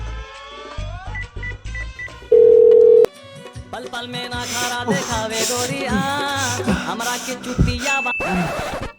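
A few short dial tones are followed by a loud steady tone, then a musical ringtone plays on with bright melodic notes.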